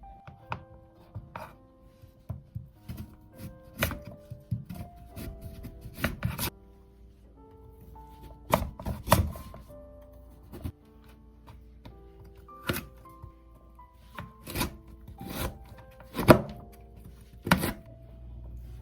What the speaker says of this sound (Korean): 살짝 채를 쳐서 물에다 담궈 두겠습니다